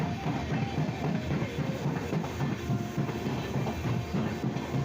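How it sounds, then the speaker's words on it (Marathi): A Chiplun–Panvel local train runs along the Konkan Railway, heard from on board as a steady close rumble with faint rhythmic clatter of wheels over rail joints, no voices. "ही चिपळूणची लोकल आहे, चिपळूण ते पनवेल."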